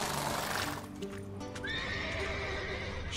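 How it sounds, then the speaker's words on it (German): Horses in The Witcher 3 whinny loudly and clearly, with hoof clip-clop on the ground beneath and a long, high neigh rising near the end. "Pferde, Pferde, Pferde."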